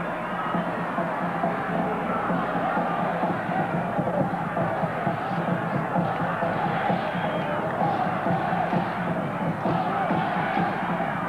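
Dense home crowd cheering at the 1981 U-20 World Cup football match between Australia and Argentina, a steady, loud roar of voices and hubbub that holds level throughout.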